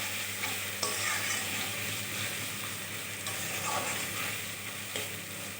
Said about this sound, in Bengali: ভালোভাবে মশলার মধ্যে আমি মাছটাকে রান্না করে নেব